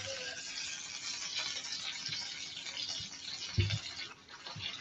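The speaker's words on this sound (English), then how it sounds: "You hear the crackle and the sizzle?" Harissa cooking in a hot pan gives a steady, close crackle and sizzle across the whole stretch, with a few soft thumps and clinks from utensils.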